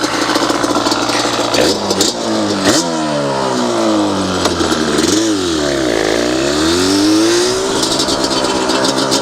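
A Yamaha Banshee engine with a modified air box runs close by, revving up and down repeatedly in rising and falling sweeps over a rattly idle, loud and continuous.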